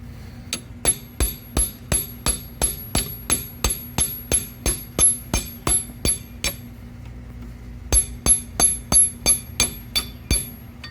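Repeated sharp metallic hammer blows on an aluminum housing of a Cummins engine, in a steady rhythm, about twenty strikes with a short pause midway, close and ringing.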